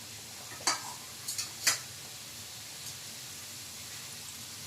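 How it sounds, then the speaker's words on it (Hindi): Khoya gujiya dropped into hot oil in a kadhai over medium flame, a low continuous frying hiss with a few quick clinks and taps from handling the pieces. "अब हम इसमें धीरे धीरे गुजिया को डालते हैं"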